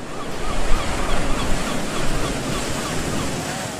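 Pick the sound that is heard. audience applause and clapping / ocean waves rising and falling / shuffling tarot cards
ocean waves rising and falling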